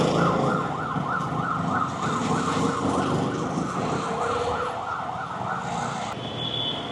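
An ambulance siren wails in heavy traffic, its sweeping rise-and-fall cycle sounding loud and steady over the rumble of engines on the road.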